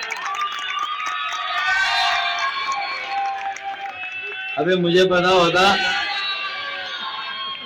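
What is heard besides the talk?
crowd cheering and chanting slogans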